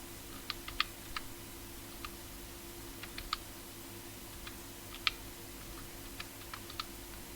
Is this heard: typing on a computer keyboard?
yes